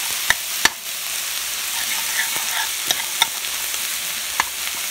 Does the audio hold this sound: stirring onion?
yes